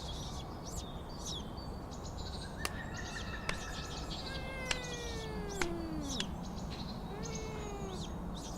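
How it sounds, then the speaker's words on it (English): A cat meows repeatedly in drawn-out, wavering cries while a monkey pesters it, with chirpy bird-like squeaks and short clicks scattered throughout over a steady background hiss. "And now, here's a monkey pestering a cat."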